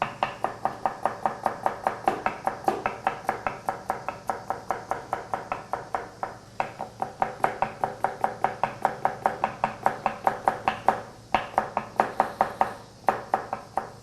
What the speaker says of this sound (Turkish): Önce havuçlarımızı doğruyoruz.